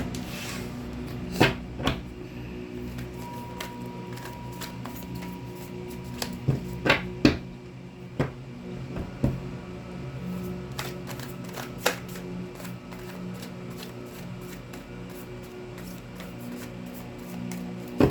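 Tarot cards are shuffled and split into three piles, giving soft rustling with scattered sharp taps and riffles at a quiet, close level and no talking.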